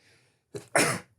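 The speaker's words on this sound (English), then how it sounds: "I have to sneeze." A single sneeze bursts out after a quick sharp intake of breath, close and loud, then silence.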